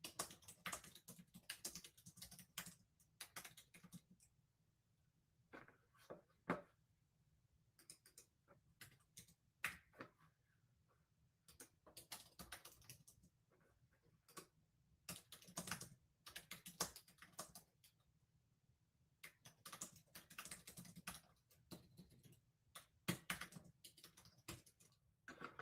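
Bursts of rapid clicking on a computer keyboard, close and fairly quiet, coming in irregular flurries separated by short pauses, with no voices.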